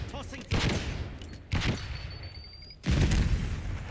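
Gunfire in Call of Duty: Black Ops 6 comes in three loud, dense bursts separated by short gaps, with rapid shots and booms over a steady game background and faint voices.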